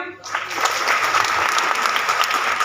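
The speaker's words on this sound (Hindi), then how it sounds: "सबके लिए जोरदार तालियां" Seated audience at a business seminar bursts into strong, dense clapping right after a brief moment of quiet, sustained and fairly close for the remaining seconds.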